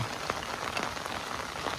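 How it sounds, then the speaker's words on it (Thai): A brief stretch of rain falls by a pond bank, a soft continuous hiss with a few distinct drops ticking close by, no one talking. "สุดยอดฝนปีนี้พี่น้อง"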